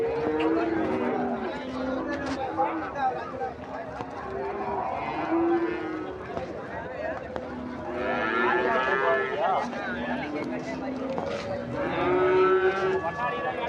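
Cattle at a busy livestock market, several animals lowing and mooing repeatedly at moderate distance, with drawn-out calls rising over a constant murmur of crowd noise and people talking.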